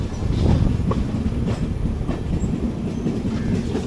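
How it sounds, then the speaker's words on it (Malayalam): A passenger train rolls over railway points, with a steady loud rumble of carriages and irregular clattering wheel knocks heard from on board. "നമ്മൾ പോയിൻറ്റ്സ് കടന്നു."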